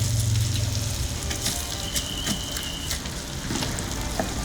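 Sandung lamur beef brisket frying in its own rendered fat, a steady dense sizzle and crackle with scattered pops, close and continuous throughout.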